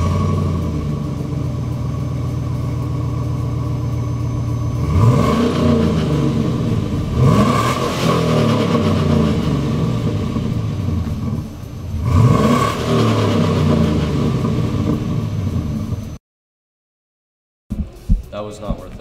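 A car engine revs loudly in repeated surges over a steady rumbling idle, with talk over it, then cuts out abruptly near the end.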